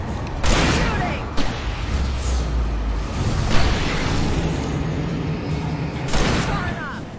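Gunfire in Alan Wake Remastered rings out as several loud, booming shots spaced apart amid a dense game soundscape, with shouted voices in the mix.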